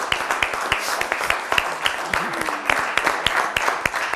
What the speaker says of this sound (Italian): L'applauso è per Claudio, che invece saprà darci la risposta precisa